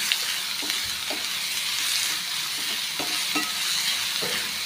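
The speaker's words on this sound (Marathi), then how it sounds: "तो कांदा टाकूया। कांदा आपण छानपैकी गुलाबी रंग येईपर्यंत परतून घेऊया" A generous amount of chopped onion sautés in a pan, steady loud sizzling with several light spatula scrapes and taps spaced through it, no voices.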